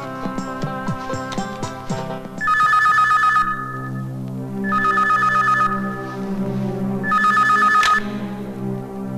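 An electronic telephone ringing in three repeated bursts, with pauses between them; clear and fairly close, preceded by some brief clattering.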